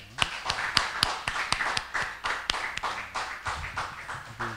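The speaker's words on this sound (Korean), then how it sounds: "하나님께 영광의 박수 드립니다." A church congregation at Sunday worship claps together in applause, a run of sharp, loud, evenly spaced claps close by with little else around them.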